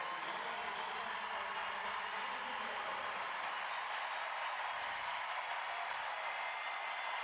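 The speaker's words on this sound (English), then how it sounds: "Klingenberg giving a round of applause to the crowd" A stadium crowd applauds at a soccer match, steady dense clapping and cheering spread wide and heard from a distance, holding at an even level throughout with no individual voices standing out.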